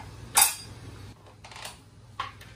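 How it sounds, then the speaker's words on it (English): A lid set back onto a cooking pot while Bahamian chicken souse simmers, heard as one sharp metallic clink followed by two softer knocks, close by with no talk. "Then I'm going to put the top back on."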